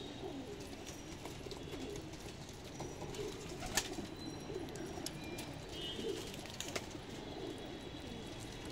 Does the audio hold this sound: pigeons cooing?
yes